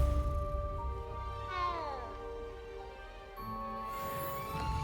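A cat meows repeatedly in the video game Hogwarts Legacy, a few clear close meows with rising and falling pitch over a quiet game soundscape, with no voices.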